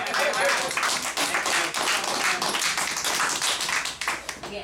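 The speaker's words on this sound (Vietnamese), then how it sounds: "vỗ tay vỗ tay quá hay" Dense clapping from a small gathering of friends, many quick overlapping claps at moderate volume running steadily throughout, with voices chatting underneath.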